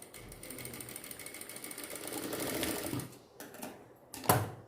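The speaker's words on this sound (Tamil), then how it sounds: "கால் இன்ச்சுக்கு கம்மியான அளவுக்கு நான் தைச்சிருக்கேன்" A sewing machine runs a fine seam under a quarter inch on a small doll dress, a steady whirring stitch building in intensity, then a brief pause and a sharp final burst.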